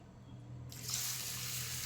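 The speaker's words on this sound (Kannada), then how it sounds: "ಈಗ ಇದು ಮುಳುಗುವಷ್ಟು ನೀರು ಹಾಕಿಬಿಡಿ" Water pours into a bowl of rice and urad dal for soaking dosa batter, starting suddenly after a quiet moment and running as a soft, steady splashing stream.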